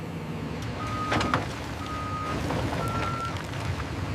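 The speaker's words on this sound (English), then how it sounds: "bring the truck back further, watch the line" A truck reversing at a metro station construction site gives three evenly spaced, high-pitched backup beeps over a steady engine rumble and background clatter.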